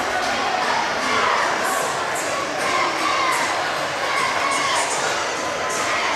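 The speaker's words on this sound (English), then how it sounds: "Great crowd here tonight." Dense crowd noise from a packed gym at a boys high school basketball district semifinal, Fairland vs South Point, a steady roar of cheering and shouting that swells and holds throughout.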